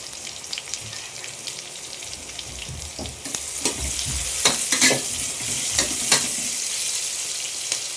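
Onions fry in a pan with a steady sizzle. A spoon stirs through them in irregular scrapes and clinks that get louder in the second half. There is no talking.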